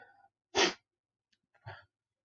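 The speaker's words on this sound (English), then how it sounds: "I'm going to sneeze" A single sharp sneeze bursts out close and clear in a quiet room, a short intake of breath before it and a softer breathy sound trailing afterward.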